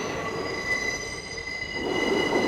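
A New York City subway 6 train grinds around curving track, its wheels giving sustained high metallic squeals over a rumbling roll, steady and fairly close with no voices.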